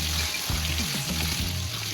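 Steady sizzling of food frying in hot oil, a constant hiss with occasional soft bubbling pops and no voices.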